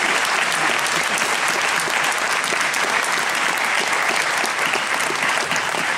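Loud, dense audience applause fills a hall at a film premiere and meeting with Mary Wagner, many hands clapping steadily and evenly throughout with no break.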